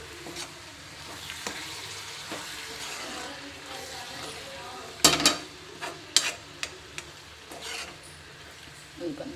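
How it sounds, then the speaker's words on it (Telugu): Chopped tomatoes sizzle and fry in a pan of cabbage curry, a soft steady crackle broken by several sharp spatula scrapes and stirring clicks nearby, with quiet background talk. "ఇప్పుడు టమాటాలు వేసేస్తాం"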